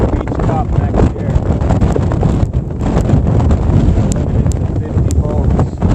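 Heavy wind gusts buffet the microphone at a boat ramp, a loud, continuous roaring rush with surging peaks, with no clear talk.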